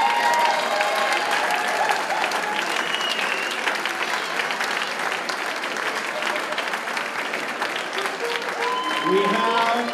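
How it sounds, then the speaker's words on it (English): A crowd at a swing dance festival's Lindy Hop competition gives the competitors a big round of applause, continuous dense clapping with a few cheers, while an announcer's voice comes in near the end. "a big round of applause for all of our competitors."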